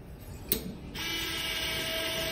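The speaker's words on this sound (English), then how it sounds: "This just pops into the drill. There we go. Spin it, it works." A small surgical drill fitted with a suture anchor whirs up to a steady high-pitched spin after a brief click, running continuously and fairly close.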